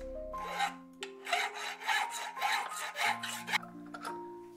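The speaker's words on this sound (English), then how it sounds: "I then cleaned up the holes a bit so that the screws wouldn't get caught on the sharp edges later." Hand filing cleaning up holes in a 3D printed plastic part: repeated rasping strokes, about eight in steady rhythm, close and moderately loud with no talking.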